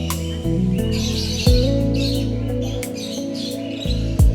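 Birds in Nahar Garden give repeated chirps and tweets, sharp short calls scattered across the clip over a steady low hum in the background.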